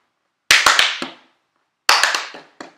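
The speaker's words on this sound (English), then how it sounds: "let's see if we can get to five claps" Sharp, close hand claps in two quick bursts, the first of four rapid claps and the second of about three, separated by a short silence, made while catching a thrown ball during a kids' rugby league drill.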